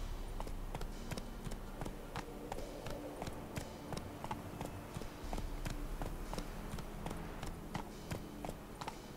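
Galloping horse hooves in The Witcher 3: Wild Hunt, a steady rapid clip-clop rhythm running throughout over a constant game ambience, close and moderately loud.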